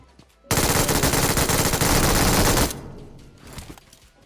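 Sustained burst of automatic gunfire in the BGMI mobile battle royale game, loud and rapid for about two seconds, followed by fainter scattered shots and game ambience.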